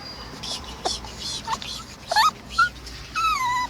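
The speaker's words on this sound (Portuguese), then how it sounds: "Vídeo do nosso cachorro" A dog whimpers inside a car, a run of short high whines and yips rising and falling close by, with a final longer wavering whimper.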